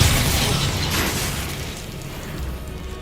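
A spell goes off in the video game Hogwarts Legacy, a loud whooshing magical burst with a deep rumbling boom that fades gradually over a few seconds.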